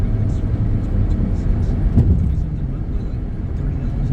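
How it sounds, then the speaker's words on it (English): A 2006 Chevy Equinox climbs a hill, its engine a steady low drone heard from inside the cabin, with continuous road rumble and a brief thump near the middle. "So it's got good power going up this hill."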